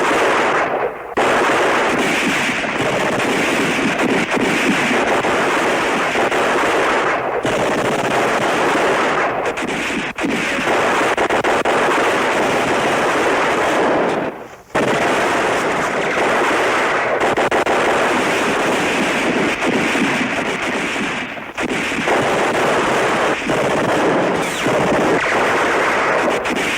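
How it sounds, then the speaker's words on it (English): Sustained battle gunfire from a World War II television drama, loud and continuous for nearly the whole stretch, with a few brief pauses breaking the dense crackle of rifle and machine-gun shots. "Keep firing! We'll get a prisoner! Keep firing!"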